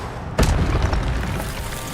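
A single sudden booming fire blast from the Incendio spell in Hogwarts Legacy, loud and close, followed by a roaring rumble that slowly trails off.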